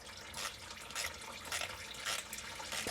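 Transmission fluid pours from a lowered pan on a Chevy 6L90E transmission, splashing in a steady, gurgling stream with rhythmic surges, close and fairly faint.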